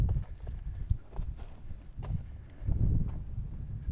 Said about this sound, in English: It's a group of goats. They are making the hiking trails.